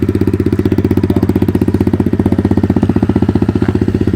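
A Buscadero BSX 110 motorcycle, the 110 cc automatic four-speed model, idles close by with a loud, steady, rapid popping exhaust beat that holds even throughout.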